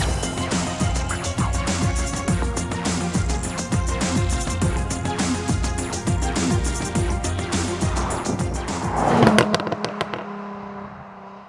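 A sports car with a PDK dual-clutch automatic gearbox accelerates hard, a loud, rasping engine with crackles and pops that builds, peaks and cuts off near the end, heard up close with no talking.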